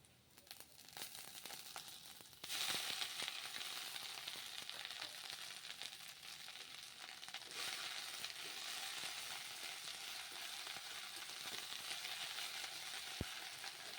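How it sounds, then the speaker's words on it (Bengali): Freshly washed drumstick leaves (sajne saag) dropped into a pan of fried onions, bursting into a loud, dense crackling sizzle that stays steady and close throughout. "এবার যে শাকটা আমি ধুয়ে রেখেছিলাম, সজনে শাকটা, সেটা আমি এবার দিয়ে দিচ্ছি"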